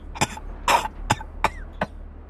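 Several harsh, wet coughs from a man impaled on a metal bar and dying, coughing up watery blood; five separate bursts spaced unevenly, one longer and rougher, close and fairly loud.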